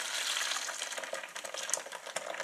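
Bun rieu soup poured slowly through a colander into a bowl gives a continuous, close, hissing splash of liquid with no pauses.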